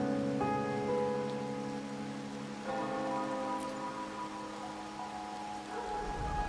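Steady rain falls in the video game Wuthering Waves, a constant patter heard alone beneath sustained tonal music, with no voices present.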